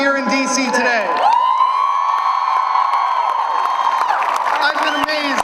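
Large protest crowd at a March For Our Lives rally in DC raising a sustained, loud cheer and whoop, with shouting voices swelling together and holding steady, scattered claps cutting through near the end.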